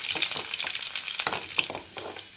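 Small onions crackle and sizzle in hot coconut oil with mustard seeds, a dense bright frying hiss broken by sharp pops and stirring scrapes, close and loud with no talk.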